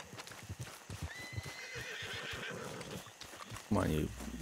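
A horse in Red Dead Redemption 2 lets out a loud whinny near the end, after hoofbeats clip-clop steadily beneath someone talking throughout.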